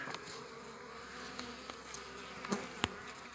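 Honeybees hum in a dense, steady buzz inside an opened hive, with a few sharp clicks and knocks cutting through near the end.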